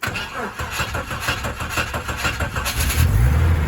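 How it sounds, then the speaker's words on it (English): A 1989 Jeep Wagoneer XJ engine cranks in a fast rhythmic churn for about three seconds, then catches and settles into a loud, steady idle up close. "Starts up fine and seems to idle just fine."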